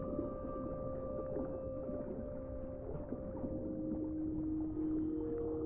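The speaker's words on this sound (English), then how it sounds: "Looks like some young dolphins are having a play date." Young dolphins play and call to each other underwater in the ocean game Beyond Blue, with steady tonal whistles and squeaks layered over a constant low watery rumble throughout.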